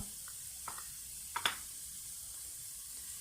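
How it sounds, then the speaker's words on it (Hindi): Onions frying in a pan until light brown, a soft, steady sizzle with a few sharp spatters and clinks of stirring near the middle, no voices. "इनको अब हम अच्छी तरह से फ्राई कर लेंगे और इनको मीडियम ब्राउन करना है।"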